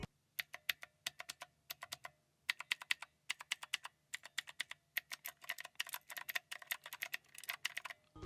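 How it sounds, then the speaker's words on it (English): Mechanical-style keys on a Divoom Ditoo speaker keyboard click sharply in quick irregular bursts, crisp close-up presses with short pauses between runs. "if you listen to them, it actually sounds like you're actually pressing on a keyboard"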